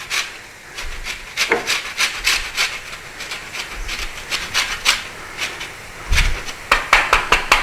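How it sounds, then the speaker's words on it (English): Lemon zest being grated for a pan-seared salmon lemon butter garlic sauce, a run of quick repeated rasping scrapes in an uneven rhythm, close and fairly loud, with no talk. "A little bit of lemon zest,"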